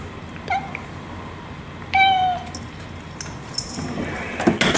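A cat meows at a door a few times, one clear drawn-out call in the middle and a shorter one earlier, over steady low background rumble.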